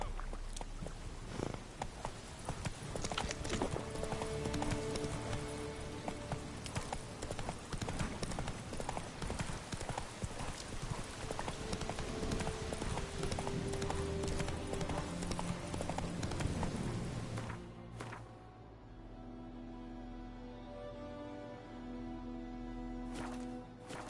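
In The Witcher 3, a ridden horse's hooves clip-clop in a quick, steady rhythm over busy game ambience for about eighteen seconds, then the hoofbeats stop and quieter background remains.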